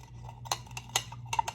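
A utensil scrapes and taps against a pot while food is stirred, giving a few sharp clinks over a low steady hum.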